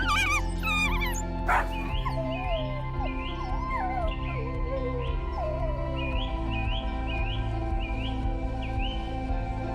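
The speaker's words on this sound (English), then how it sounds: "the wild dog pack moves on, leaving behind fading footprints in the warm earth" An African wild dog pack calls on the savanna with high, chirping twitters and yips repeating in short bursts over a steady low background, the pack sounding fairly close.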